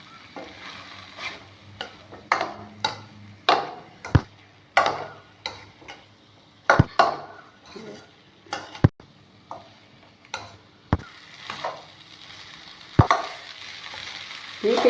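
A spoon stirs cooked rice mixed with ridge gourd and garam masala in a pan, giving repeated sharp scrapes and clacks at an uneven rhythm over a soft sizzle, close and fairly loud, with no talking.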